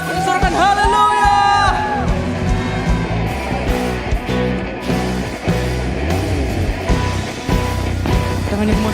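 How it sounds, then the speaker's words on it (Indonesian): A children's congregation shouts and cheers loudly at a lively church worship service, a dense crowd roar with whoops over music that stays loud throughout. "sorakan haleluya!"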